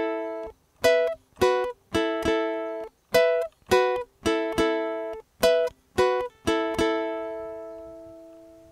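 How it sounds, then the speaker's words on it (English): A ukulele plays a picking riff, about a dozen crisp plucked notes in a steady rhythm, played alone, with the last one left ringing out. "So the riff sounds like this."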